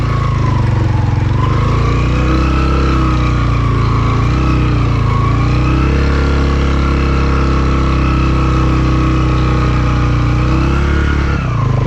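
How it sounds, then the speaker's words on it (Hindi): A motorbike engine labouring up a steep, continuous mountain climb in Hoper Valley, Gilgit Baltistan: a loud, close, unbroken roar whose pitch wavers as the rider works the throttle on the incline. "आपको बाइक की आवाज़ आ भी रही होगी"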